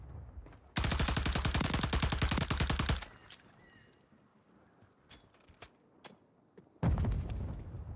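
Rapid automatic MTZ rifle fire in the Warzone video game, a loud sustained burst of about two seconds followed by quieter distant shots and another burst starting near the end.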